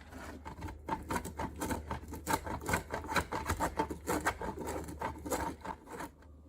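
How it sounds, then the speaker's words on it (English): Cold butter is rubbed against a grater for blueberry scones, a close, continuous rasping scrape with a steady back-and-forth rhythm and no talking. "All right, so we've got our butter all grated"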